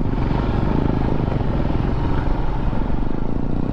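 A Royal Enfield Meteor 350 motorcycle off-roading, its engine thumping loudly and continuously close by with rough clattering from the rugged ground, steady throughout with no talking.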